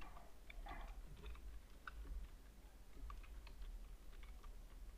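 Light clicks from a computer keyboard being typed on, scattered irregular keystrokes at close range, soft and quiet over a low background hum.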